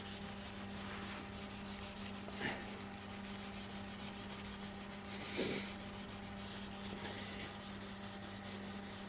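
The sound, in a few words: sanding varnish off a Brown & Sharpe magnetic chuck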